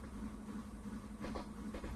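Faint low rumble of a coal-less train riding in a video game, a steady drone with a few soft rhythmic clacks near the end, no voices.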